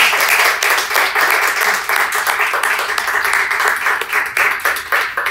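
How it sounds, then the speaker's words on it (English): Loud, close applause from a Toastmasters club meeting audience for three speakers, dense continuous clapping with distinct individual claps standing out and slight swells and dips across the stretch, no talking over it. "Let's give a huge round of applause to all three speakers."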